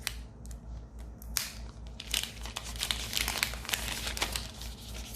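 Thin plastic protective film peeled off the fingerprint sensor of a new phone: close, quiet crinkling and crackling in irregular bursts, getting busier and denser after the first two seconds.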